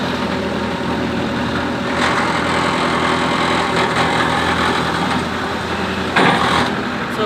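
A motor boat engine drones steadily close by on a river, a continuous low rumbling hum with no break and no talk.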